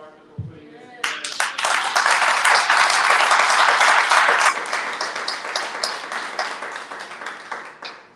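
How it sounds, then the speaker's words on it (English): Audience applause at a panel and vigil for Vanessa Guillen, a loud sustained burst of many hands clapping that starts abruptly, holds steady, then thins out toward the end. "Can we give a round of applause to Martha for putting this together?"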